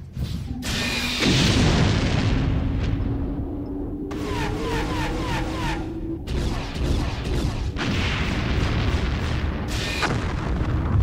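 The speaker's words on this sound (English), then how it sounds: "Narn cruiser powering up weapon systems." A Narn cruiser fires its weapons amid explosions. Deep rumbling booms and blasts overlap with a rising whine of charging weapons, and sharp bursts recur over a dense, continuous roar.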